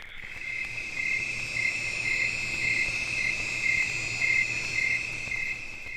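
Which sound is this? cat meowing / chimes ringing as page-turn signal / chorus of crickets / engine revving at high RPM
chorus of crickets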